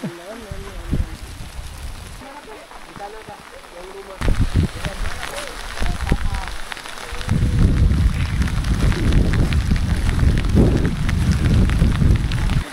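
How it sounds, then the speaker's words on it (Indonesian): Heavy downpour on a mountain in South Sulawesi during a descent, a dense steady hiss that swells louder in the second half, with people talking over it. "Di saat-saat kita mau turun, tiba-tiba hujan pun turun. Deres."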